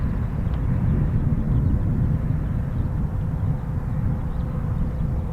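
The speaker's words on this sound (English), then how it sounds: "Now what we got taxiing?" Military aircraft taxiing at an RAF airfield, heard as a steady, loud low engine rumble and roar that holds constant throughout without voices.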